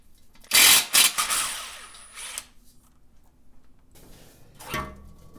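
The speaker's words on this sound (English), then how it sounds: "Go ahead and remove this bolt here. And this one down here." Bolts come off a KTM SX/MXC/EXC motorcycle engine during a top and bottom rebuild: a few sharp, close tool bursts and metallic clatter early on, then quiet, then one fainter burst.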